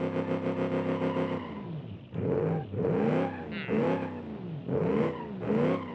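A 1974 Pontiac Trans Am engine in BeamNG Drive, a driving game, holding a steady drone before several surging revs that rise and fall in quick repeated pulls, loud and close with no talk.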